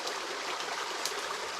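River water flowing steadily outdoors, a continuous broadband rush without pauses or voices.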